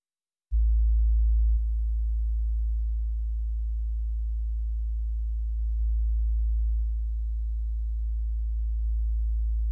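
A single sustained sub-bass sine note from the Serum synth in Ableton Live starts abruptly and hums deep and steady, with a slight dip in level after the attack and small swells later on.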